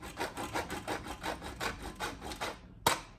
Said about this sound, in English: And I want to grate this over.